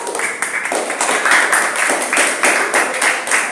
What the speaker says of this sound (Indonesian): Tepuk tangan untuk Bintang dan Alvin.